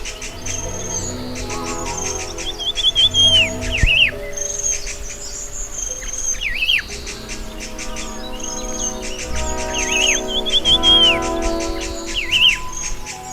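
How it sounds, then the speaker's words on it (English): Rufous Sibia singing in a misty Himalayan forest at Toli Peer, repeated bright whistled phrases rising and falling over a dense chorus of other songbirds, including laughing thrushes and greenfinches, steady and fairly close throughout. "The Sibia's voice joins the chorus of laughing thrushes, greenfinches, and lyothrics"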